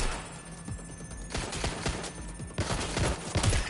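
Rapid gunfire bursts in the video game Watch Dogs Legion, a dense run of sharp repeated shots growing louder toward the end, with no talk over it.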